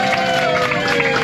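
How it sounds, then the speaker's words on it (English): Passengers on a bus excursion around Nordfjord cheer and applaud their driver, a short, dense burst of clapping mixed with whoops and voices that fills the space close by. "Let's have a huge applause for him"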